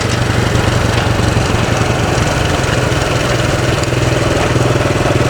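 An excavator engine running steadily while dredging a pond, a loud, continuous, close diesel drone with no pauses and no talk.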